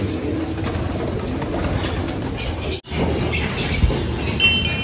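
Pigeons coo in a breeding loft aviary, soft throaty low calls from several birds close by over a continuous background din, with a brief dropout midway and no talking.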